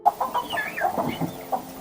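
A hen clucks in quick, agitated bursts inside a hen house during a fox attack, close and fairly clear with no talking.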